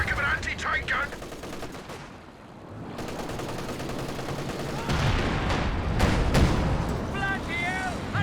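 Dense gunfire with heavy mortar and shell impacts from a Company of Heroes 2 battle, a continuous loud barrage of shots and booming explosions throughout, with speech over it.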